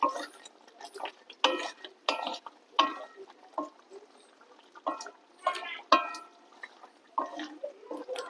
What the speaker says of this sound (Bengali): এবার দিয়ে দেবো একটু ধনেপাতা কুচি। ভালো করে নেড়ে চেড়ে নেব।